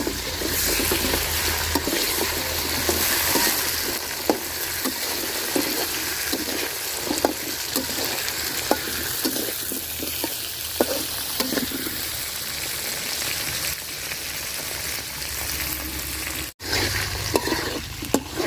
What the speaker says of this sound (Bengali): পেঁয়াজটা আমি বাজা বাজা করে নিছি আলুটি দিয়ে একটু বাজা বাজা করে নিব পেঁয়াজের সাথে